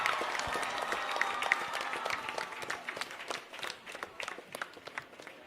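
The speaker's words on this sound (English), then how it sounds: "Let's all give a big round of applause." Students at St. Joseph's Matriculation Higher Secondary School give a round of applause: faint, slightly distant clapping from a group that keeps going at an uneven, scattered rhythm and then thins out.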